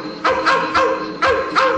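Dogs bark and yap in quick bursts within a novelty song about the wild dogs of Kentucky, five sharp yelps in under two seconds over the music.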